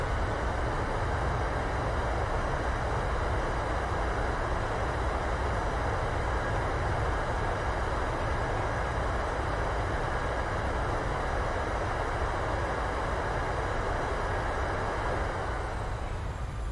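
Simulated airliner in Microsoft Flight Simulator with thrust reversers deployed during landing rollout, a constant dense roar of rushing engine noise at steady loudness that thins slightly at the very end, no speech.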